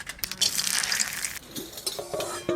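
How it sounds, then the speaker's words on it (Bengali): Whole garam masala, dried chillies and bay leaves crackling in hot oil, with a spoon clinking and scraping against the pan in short bursts, close and moderately quiet. "মাংস রান্না করার আগে ফোড়ন করে নেব গোটা গরম মশলা, শুকনো লঙ্কা আর তেজপাতা"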